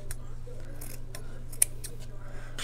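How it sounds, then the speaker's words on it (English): Scissors snip a boot-topper or craft piece for a DIY girl gnome, giving a few faint, quiet cuts over a low steady hum, with one sharper click standing out midway. "I'm just going to cut it a little bit."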